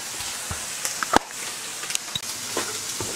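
Food frying in a smoky pan while salted russula mushrooms are prepared: a low, steady sizzle with scattered crackles and a few sharp clinks and knocks of utensils nearby.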